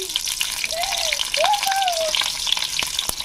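Cumin seeds and a green chilli sizzle in hot oil for a village-style onion and sesame chutney, a loud steady hiss with crackles, while a voice briefly hums in the background.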